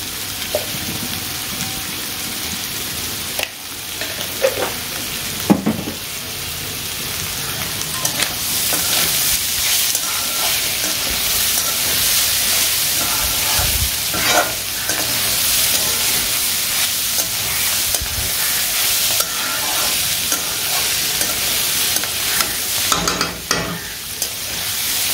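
Fried rice with soybean stir-fried in a hot pan after a pinch of sugar, a steady loud sizzle with irregular scraping and stirring strokes running continuously throughout.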